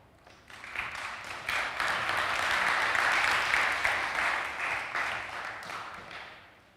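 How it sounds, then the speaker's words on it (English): An audience at a blockchain developer conference bursts into applause after a talk, a dense steady clapping that swells quickly, holds for several seconds and then tapers off. "Another round of applause."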